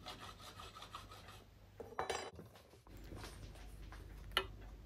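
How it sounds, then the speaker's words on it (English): A hand file rasps steadily across a milled metal part, blending a radius on a Kawasaki S1 four-cylinder transmission piece in a home workshop. Strokes are close and continuous, with a brief pause and a small clink, and no talk. "I use my file to blend the radius."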